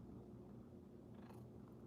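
A cat purring close up, a soft continuous low rumble that is faint and steady over two seconds with no talk.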